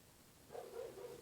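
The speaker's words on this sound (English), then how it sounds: "Yeah, that was my dog." A dog barking outdoors, a few muffled barks rising at a moderate distance, heard fairly faintly through walls with no talk over them.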